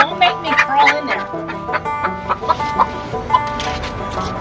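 A limping backyard hen with bumblefoot clucks repeatedly up close in short, choppy bursts, with other chicken calls mixed in and people talking throughout.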